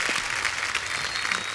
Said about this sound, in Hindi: एक बार राजकुमार और नुसरत के लिए जोरदार तालियां